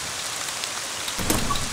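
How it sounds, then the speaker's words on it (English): Rain in the game Ib falls as a steady hiss of drops that grows heavier partway through and then keeps going at a fuller level. "And now it's raining."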